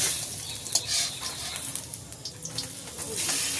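Tender ash gourd fritters frying in hot oil, a continuous bright crackling sizzle with soft scrapes and clinks as they are turned over together in the pan, no voices.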